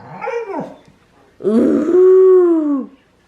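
A dog makes two close vocalizations: a short whining yelp, then a longer, drawn-out groaning whimper with a growly edge, loud against silence.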